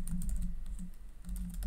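Someone types rapid keystrokes on a computer keyboard to enter login details. The clicks are close and fairly quiet, with a brief pause midway, and there is no talking.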